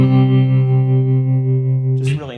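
Clean electric guitar through a Yamaha THR10C amp with tremolo and reverb, a single sustained chord ringing steadily for about two seconds before a brief bright strum.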